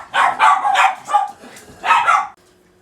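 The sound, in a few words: dog barking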